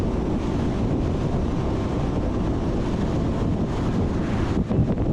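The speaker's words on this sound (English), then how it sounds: "So it's just this wind coming from the east," Steady wind buffets the microphone outdoors on a ride north from Lake Shelbyville toward Cerro Gordo, a continuous loud low rumble and roar with no voices.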